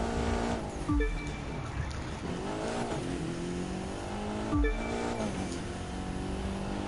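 A Mitsubishi Lancer Evo 6 engine in The Crew 2 revs hard through a race, with steady high-pitched acceleration, gear-shift dips and two sharp thumps, loud and continuous without talking.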